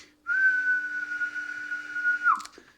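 A steady whistle into a ham radio microphone, one sustained pure tone held for about two seconds before it bends and cuts off, with a faint low hum underneath.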